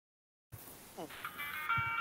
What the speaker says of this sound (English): that's my phone case turning on